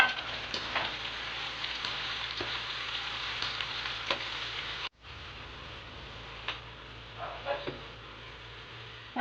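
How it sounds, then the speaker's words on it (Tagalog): Garlic and onion sizzle and fry steadily in hot oil, with a constant crackling hiss broken by occasional stirring scrapes; the frying continues alone without talk. "Ilagay na natin ang bawang. Isunod ang sibuyas."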